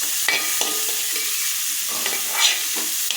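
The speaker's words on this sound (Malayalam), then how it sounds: "ഇളക്കി അതുമായിട്ട് യോജിപ്പിക്കുക." Chopped carrot, onion and cabbage being stirred into cooking ragi in a pan, a steady sizzle under repeated scraping strokes of a spoon, close and continuous, with no talking.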